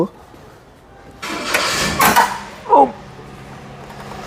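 A Mitsubishi L200 pickup's 2500cc diesel engine cranks and catches in a short, loud burst, followed by a couple of sharp revs before settling, with a person talking nearby.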